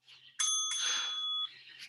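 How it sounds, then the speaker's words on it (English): A bright bell rings during a bootcamp plank workout class, with one clear metallic strike followed by a sustained ringing shimmer. It is fairly faint and sounds alone, with no talk. "There's our bell."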